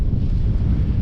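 Strong wind roars across the microphone aboard a small sailboat under a temporarily reefed sail, a loud, unbroken low buffeting rush that drowns out other sounds.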